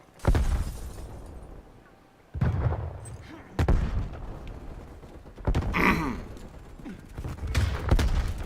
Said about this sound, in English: Sending frag grenade